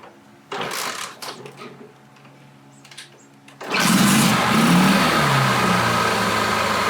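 A car engine on a vehicle with a two-phase charging system cranks and catches, then settles into a loud, steady run with revving, following a quieter stretch of intermittent clatter and handling noise.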